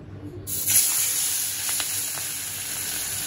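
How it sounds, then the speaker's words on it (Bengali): Fish fries in a pan. A loud, bright hiss swells up abruptly, then holds as a steady close sizzle with a few faint crackles. "ঈশানা সারা জন্য মাছ ভাজি করতেছি।"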